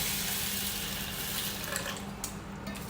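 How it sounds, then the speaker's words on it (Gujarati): Water is poured into a pot of washed dal and rice for Kutchi-style tempered khichdi. It makes a soft, steady pouring and splashing hiss close by, with no talk. "હવે એની અંદર પાણી એડ કરી દઈશું"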